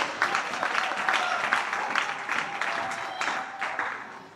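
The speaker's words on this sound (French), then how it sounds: "Can somebody clap for the Most High God?" A church congregation applauds with dense, sustained clapping for several seconds, fading slightly toward the end, and a few voices sound faintly underneath.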